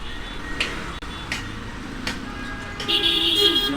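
Heavy road traffic rumbles through Dhaka around the Kamalapur area, with the steady drone of engines, a few passing knocks and a brief honking horn rising toward the end.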